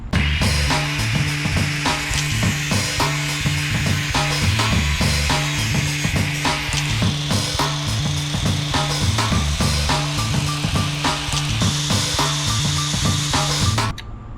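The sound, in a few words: shortening the end of a lathe tool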